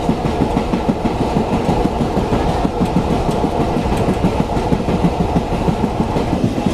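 A Mongla-to-Benapole commuter train runs along the rails, its carriage rumbling loudly up close with a steady rhythmic clickety-clack of wheels over track joints.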